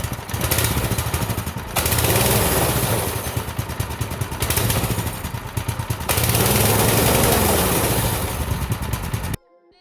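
A Baja mini bike's small engine runs nearby with a rough, revving putter, surging and easing in waves during a rear tire replacement, then cutting off abruptly near the end, with no talk over it.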